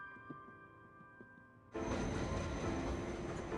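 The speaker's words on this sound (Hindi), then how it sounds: "ये तीसरी ट्रेन थी जो हमारी नहीं थी।" A train rushes past at close range, its broadband rumble and rattle arriving suddenly after a quiet stretch and holding loud and steady until the end.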